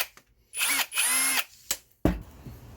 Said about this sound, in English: Looks like the drill bit is spinning straight. You can see it's just the drill is wobbling a little bit.